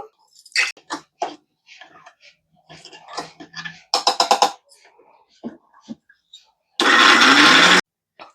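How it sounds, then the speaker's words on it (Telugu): A loud mixer grinder whirs in a short burst near the end grinding curry leaf chutney with salt, after a stretch of scattered clicks, taps and brief speech. "నేను మిక్సీలో చేస్తున్నానండి"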